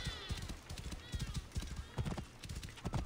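Horse hooves clip-clop in a steady, busy rhythm with a brief whinny, from the Assassin's Creed Origins video game, with faint game ambience and some talk mixed in.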